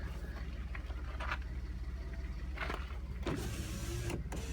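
Power window motor on the driver-side rear window of a 2013 Ford F150 EcoBoost pickup, whirring in short bursts as the glass moves, over a steady low hum.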